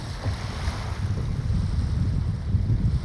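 Steady ocean surf rolls and washes along a shoreline with wind, a continuous low rumble of breaking waves, fairly loud and close, with no voices.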